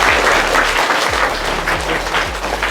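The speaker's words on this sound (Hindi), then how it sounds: "तो इनके लिए जोरदार तालियां।" Loud, steady applause from a student quiz-show audience fills the whole stretch, dense clapping with a low hum beneath and no talking.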